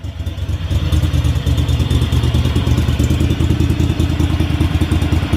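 A modified garden tractor engine with hot-rod-style exhaust idles loudly and steadily up close, a rapid even putter with a metallic clattery edge, running alone with no talk.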